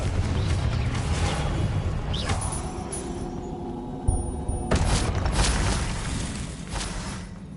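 A Confringo blasting spell explodes in the Hogwarts Legacy video game, with booming blasts and crashing impacts over dense, continuous game-combat noise, including a sharp hit in the middle and renewed bursts afterward.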